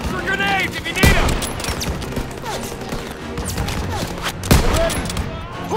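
Suppressive gunfire in the WWII shooter Call of Duty WW2, with rapid, continuous volleys and heavier reports over a busy battlefield while voices shout beneath.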